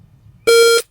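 A shooting shot timer gives a single loud, steady electronic beep lasting about a third of a second, sharp and close against near silence.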